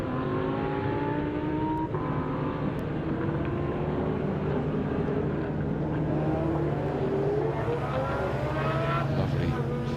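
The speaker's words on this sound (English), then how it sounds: "Lovely Ford GT in Golf livery that just went along." A Ford GT race car in Gulf livery drives past at a car meet, its engine a steady, mid-distance drone that rises in pitch as it moves away, with crowd chatter in the background.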